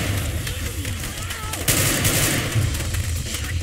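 Gunfire rattles in the zombie shooter Left 4 Dead 2, continuous rapid shots with a louder burst midway, dense and close over game ambience.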